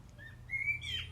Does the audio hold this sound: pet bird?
yes